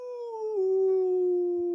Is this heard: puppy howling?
yes